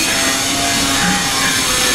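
Neighbours' renovation work in an Egyptian hotel, the Albatros Aqua Blu, comes through as loud, steady rasping sawing that fills the room without a break.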